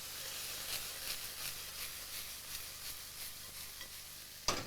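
Sesame oil, soy sauce and rice wine sizzle and hiss in a hot wok as the food is stirred, a steady close frying crackle with soft scraping strokes and a sharper clack near the end.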